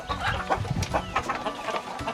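Domestic chickens clucking in a backyard poultry setting, several birds giving repeated short clucks close by, with no voices.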